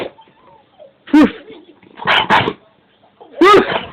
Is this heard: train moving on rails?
no